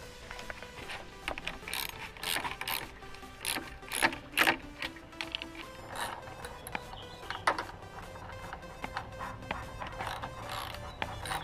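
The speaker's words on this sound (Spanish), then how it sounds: "vamos a usar aquí un dado de media para quitar lo que es la bomba de freno." Ratchet with a half-inch socket working loose the brake master cylinder on a Honda CBR 600 RR motorcycle, giving close, crisp clicking strokes in uneven bursts throughout.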